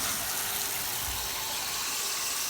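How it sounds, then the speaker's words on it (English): Water running from a DIY outdoor backyard shower, a faint, steady hiss of spray that continues evenly with no talking. "Alright, shower on."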